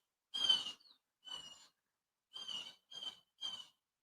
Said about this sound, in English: It sounds like a crow.